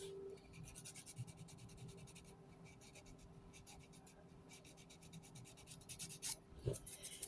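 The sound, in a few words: emery board filing nail edges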